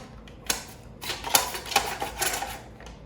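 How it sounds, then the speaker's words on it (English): Fennel is sliced on a mandoline set at about 1/8 inch, making a few crisp, close scraping strokes with short pauses between them. "I'm actually gonna put it on the mandolin just like this"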